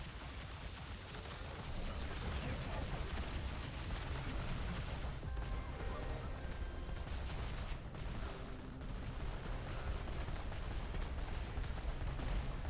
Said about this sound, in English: Whatever's firing all these mortars, you're dead.